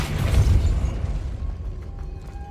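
A Depulso spell cast in the video game Hogwarts Legacy lands as a heavy low boom with a dull burst, loudest at the start and then fading into a rumbling tail.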